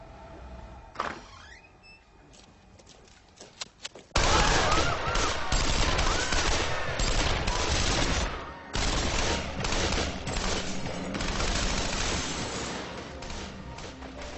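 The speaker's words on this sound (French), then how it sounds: "Les policiers sont surpris d'entendre des tirs en rafale." Long sustained bursts of automatic gunfire crackle loudly during a bank robbery, briefly dipping once before resuming, after a few seconds of quieter background noise and isolated clicks.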